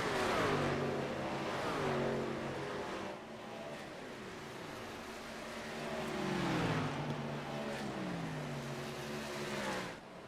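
Racing trucks in a contender series race pull through the pits, engines revving and shifting with rising and falling tones, several vehicles passing close with a steady loud roar and no talk.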